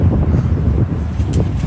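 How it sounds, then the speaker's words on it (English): Strong outdoor wind buffets the microphone during a street lesson in steady, loud low-frequency rumbling gusts that fill the whole moment, with no voices heard over it. "Bear with me, it's real windy."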